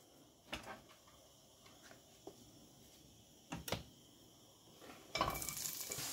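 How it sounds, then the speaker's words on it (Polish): Vegetables stir-fry in a pan for pork tenderloin yaki soba, a faint sizzle broken by a few sharp utensil clacks and stirring scrapes, ending in a louder burst of frying hiss. "Dodajemy warzywa i smażymy, co chwila mieszając"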